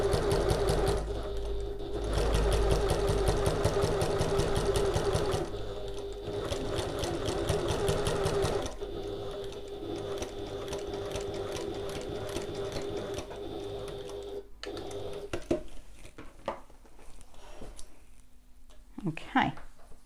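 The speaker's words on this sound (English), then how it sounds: "We'll start at the bottom and sew all the way up to the top along that line." A sewing machine stitches layers of a passport folio in a rapid, even mechanical chatter close by for several seconds. It stops and restarts in shorter bursts, and a person talks in between.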